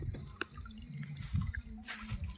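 Irrigation water runs through a field channel on a farm, a soft trickle and gurgle with scattered drips over a low rumble, fairly faint throughout.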